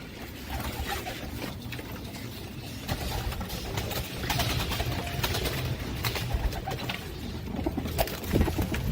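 Pigeons coo softly and repeatedly amid rustling and fluttering, a steady chorus of low burbling calls from several birds nearby.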